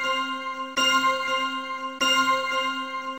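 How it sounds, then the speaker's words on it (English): A bright metallic bell rings with a sustained shimmering tone, struck again twice so the ringing renews, heard alone and close with no voices. "A bell."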